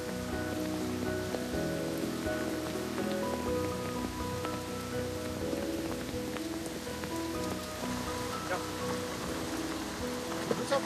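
Steady heavy rain pours and patters on hard surfaces at a quayside fish market throughout, dense and continuous, with faint background activity.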